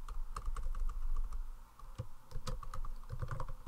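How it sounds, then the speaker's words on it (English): Rapid typing on a computer keyboard, close and clear, with irregular clusters of clicky keystrokes and a few heavier key hits, with no talk. "you can type in what you would like it to say"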